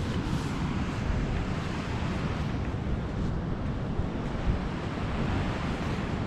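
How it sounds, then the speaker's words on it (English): Surf rolls steadily onto a black sand beach in Iceland, a broad continuous wash of waves mixed with wind buffeting the microphone, with no voices. "First time that I've ever been on a beach with black sand"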